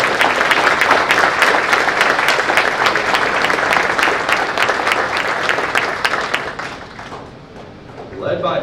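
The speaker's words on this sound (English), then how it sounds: "So please give another round of applause." A crowd at a city's State of the City address applauds its law enforcement with dense, loud, sustained clapping for about seven seconds, then fades out near the end.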